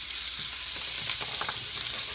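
Bacon fries in a pan with added butter, giving a dense, steady sizzle and crackle up close from start to finish, with no talking.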